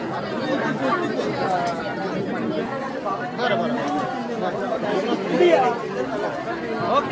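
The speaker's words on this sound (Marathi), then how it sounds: "गर्दी बघा." Crowd chattering at a village Gondhal festival for the goddess Bhavani in Konkan: many voices overlapping in a steady, dense murmur close around, continuous throughout with no single voice standing out.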